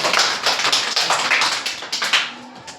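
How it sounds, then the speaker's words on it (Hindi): Children in a classroom applaud a student, a loud, close burst of rapid, uneven clapping that carries on for a few seconds without talk. "बहुत बढ़िया, जोरदार ताली बच्चे के लिए।"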